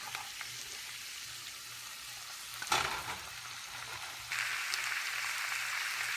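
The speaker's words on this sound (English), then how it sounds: "just saute the vegetables and until they get a little bit tender" Vegetables sauté in a pan on a home stove, a steady soft sizzle with scattered crackles, a sharp clatter of stirring near the middle, then a brighter, louder hiss toward the end.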